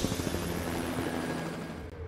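A helicopter drones steadily with a low rotor thump, moderately loud and continuous throughout a short stretch.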